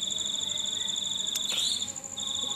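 Crickets chirp steadily with a continuous shrill trill and a brief interruption, heard close by as crickets are hand-fed to a pet civet.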